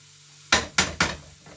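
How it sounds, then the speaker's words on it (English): Three quick scraping clatters of a utensil against a frying pan of veggie haggis ingredients with spices, salt and pepper, evenly spaced, then a fainter fourth, with a soft sizzle underneath. "Mix all that up completely so it's all covered with the spices, salt and pepper."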